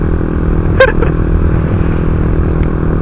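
Motorcycle engine while riding on a road trip in the Philippines, a steady low droning rumble close by with wind noise and a brief clattering knock early on.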